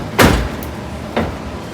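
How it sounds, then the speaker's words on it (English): The door of a 1970 car, a 340, is shut with a thin wood shim in the jamb: one solid close, then a second lighter thud about a second later, loud and near. "close the door."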